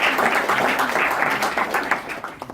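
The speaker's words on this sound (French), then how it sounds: "vous pouvez applaudir" An audience at an event's jury introduction claps for the jury president, a short burst of close, dense applause that fades slightly toward the end.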